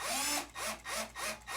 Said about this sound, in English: a drill is just much quicker